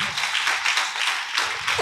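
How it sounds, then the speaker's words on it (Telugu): A church congregation claps hands during Sunday worship, a dense, continuous patter of many hands sustained throughout at moderate loudness, with no talk over it. "చప్పట్లు కూడా దేవుని మహిమపరచండి"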